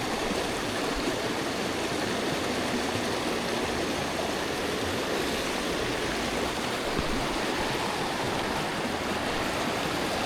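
Swift stream water rushing steadily at a trout fishing hole, a dense, continuous broadband wash that stays close and even throughout, with no voices over it.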